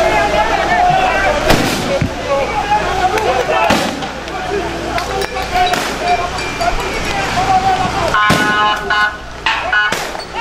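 Police fire gunshots into the air to disperse stone-throwing protesters: several sharp, loud cracks at irregular intervals cut through a constant roar of crowd noise and voices.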